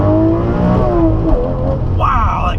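A Lamborghini Reventon accelerates hard, its engine note climbing through rising revs close by, with a driver's voice speaking over the roar.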